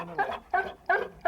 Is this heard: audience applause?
no